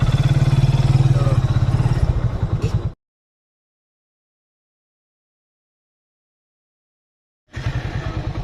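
A manual-clutch motorcycle engine runs with a steady low throb for a few seconds as it pulls away in first gear, cuts to silence, then returns at the end.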